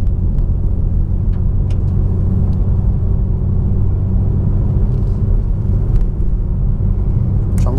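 A BMW M2 Competition drives along a village road, its engine giving a steady, close rumble with a faint rise as the throttle opens, and no voices over it.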